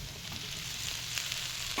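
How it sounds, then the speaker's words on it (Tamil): Steady sizzling of tomatoes and onions sautéing in hot oil, with occasional light stirring scrapes; close and continuous, no voices. "தக்காளி ஆட் பண்ணிவிட்டு நல்லா வதக்கி வச்சுக்கோங்க"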